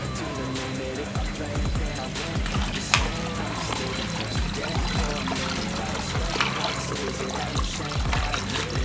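Water poured over predator fish food in a large container, a steady close splashing stream that runs throughout, mixed with a loud music track and some talk.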